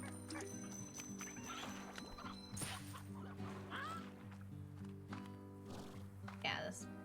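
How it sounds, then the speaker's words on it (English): Chickens cluck in short bursts within a video game's background audio, sitting under steady game music and a person talking over the top. "Chickens!"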